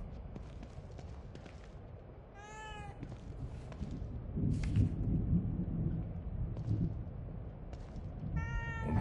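A cat meows twice within The Evil Within 2 game, clear rising-and-falling cries near the start and end, set against a rumbling thunderstorm with rain and low thunder swelling in the middle.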